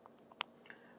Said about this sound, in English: It still has a crunch to it.